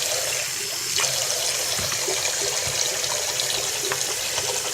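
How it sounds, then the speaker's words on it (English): Hot water poured steadily into a cup of instant noodles, a continuous close-up splashing and trickling stream with no voices. "Put the water into the fill line."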